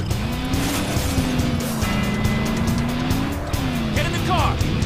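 A car pulls away in the Call of Juarez video game with a sustained engine drone, tires squealing near the end, while players talk over the action.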